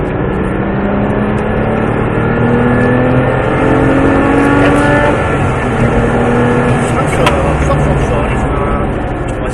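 Porsche 997 GT3 race car with aero kit accelerating on the Mettet circuit, a loud sustained engine roar climbing in pitch through rising revs, heard from inside the car with a voice talking over it.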